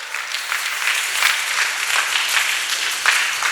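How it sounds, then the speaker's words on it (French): A church congregation applauding together, steady dense clapping that swells and fades slightly, fairly loud and filling the room without pause. "on acclame, on acclame."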